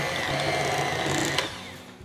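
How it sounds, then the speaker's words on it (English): Electric hand mixer on low speed beating room-temperature cream cheese for a chocolate cheesecake batter, a steady close motor whir with no voices. "I'm going to use my hand mixer."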